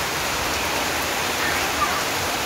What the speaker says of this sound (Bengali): কিছু দেখা যাচ্ছে না, এত জোরে বৃষ্টি হচ্ছে।